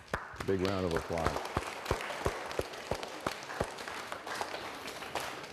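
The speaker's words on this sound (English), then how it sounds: "Big round of applause." An audience applauds at a local event, a scattered run of claps of moderate volume heard behind a speaking voice.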